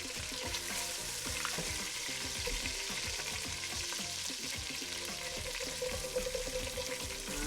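Fideo noodles frying with chicken in oil and chicken-skin grease, a dense continuous sizzle with crackling pops and stirring scrapes, close and steady throughout with no voices.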